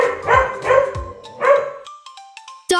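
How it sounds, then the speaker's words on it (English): Dog gives three loud, close barks in quick succession, followed by a few faint higher yips or whimpers and a short sharp sound at the end. "This is a dog."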